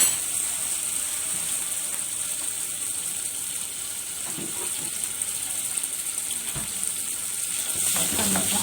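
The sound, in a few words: crushed garlic frying for okra dish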